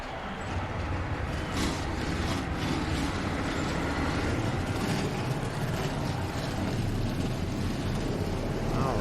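Forty-two stock car engines roaring together in the game NASCAR Racing 2003 at the Middle Georgia track for a Coca-Cola Shootout race: a loud, dense, continuous rumble with no breaks.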